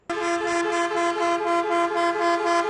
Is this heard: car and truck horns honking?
yes